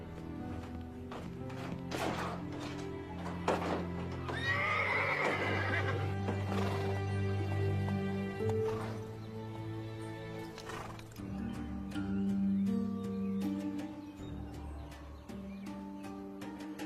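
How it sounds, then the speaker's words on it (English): A horse neighs loudly near the start of a western film scene, followed by steady clip-clop hoofbeats as it moves off, layered over background music and ambient noise. "That's Frank James's horse, all right."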